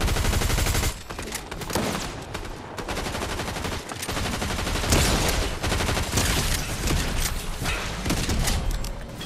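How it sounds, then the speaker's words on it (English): Video game gunfire rattles nearly nonstop, loud and close, with rapid automatic bursts and shots overlapping through the whole stretch. "Thanks for shooting me or killing me"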